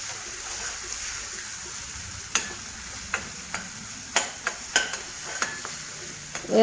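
Masala sizzles steadily in oil for fish head bhuna, close and loud, broken by a string of sharp scraping clinks as a spoon stirs and knocks against the pan.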